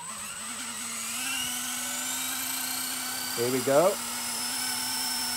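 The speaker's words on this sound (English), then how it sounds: "Let's see how this helicopter flies." A small RC helicopter whines with a steady high-pitched motor tone, briefly rising and wavering as it lifts; someone speaks briefly.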